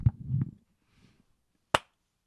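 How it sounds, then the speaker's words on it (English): A single sharp hand clap rings out alone after a moment of quiet, following a few soft murmurs at the start. "Let's do the clap."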